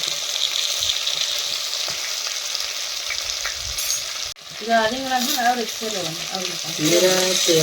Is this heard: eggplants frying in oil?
yes